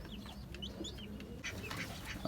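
Desi chickens on a rooftop garden give soft, scattered clucks and short chirpy calls over a steady background hum, fairly faint and intermittent with no talking.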